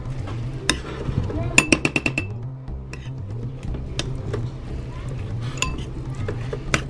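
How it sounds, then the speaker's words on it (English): Ingredients are stirred together in a bowl, with a utensil clinking and scraping against the sides in quick bursts and then a steadier rhythm, while a person talks over the mixing. "I'm just gonna mix everything up."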